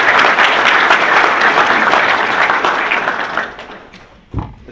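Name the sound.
audience applause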